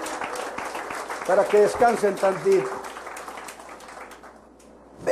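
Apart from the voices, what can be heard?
church congregation applauding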